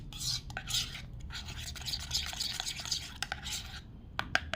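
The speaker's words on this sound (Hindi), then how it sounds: "तो आपको मुलेठी का पाउडर भी 1 चम्मच आपको इसी फेस पैक में मिक्स करना है इस तरीके से" Licorice root powder is stirred into a face pack with a spoon, a soft, close, wet scraping that runs in uneven strokes with a few light clicks.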